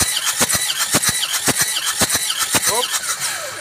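A Panther car engine cranks on its starter in a series of quick, even bursts with squealing tones, close and fairly loud, in a roadside setting.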